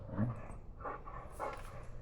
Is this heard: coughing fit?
no